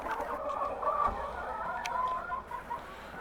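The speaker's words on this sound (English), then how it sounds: "All of these Easter egger and olive egger hens." Easter Egger and Olive Egger hens cluck softly and intermittently nearby, with a few higher chirps over a quiet outdoor background.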